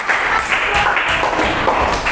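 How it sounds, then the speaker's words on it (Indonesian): Classroom students applauding a group, a dense steady wash of clapping that fills the short span at an even, fairly loud level. "tepuk tangan buat kelompok kalian semua ya"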